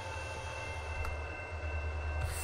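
Game train from Transport Fever rolling along a line, a steady low rumble of wheels and wagons held evenly throughout at moderate level, with a faint hiss on top and no talking.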